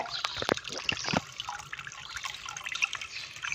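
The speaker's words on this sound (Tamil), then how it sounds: "பாருங்க கொட்டிட்டு இருக்க அருவியாட்ட." Water pours from an aquarium waterfall setup nearby, a continuous splashing flow with a few sharper drips and plops near the start.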